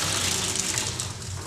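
Water gushing steadily through a pipe into a vat, a loud continuous rushing flow that holds even for the whole moment with a faint low hum beneath.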